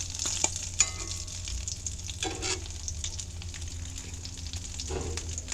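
Tuna, cornmeal and mustard cakes fry in a cast iron skillet on a Coleman stove inside a greenhouse, giving a steady close sizzle with light scraping and stirring clicks throughout.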